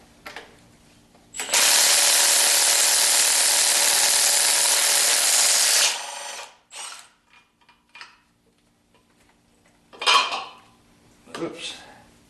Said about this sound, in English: at least go to level 2 for the crankshaft bolt, because that was put on to 60 foot-pounds